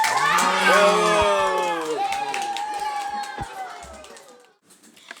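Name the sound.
crowd cheering and clapping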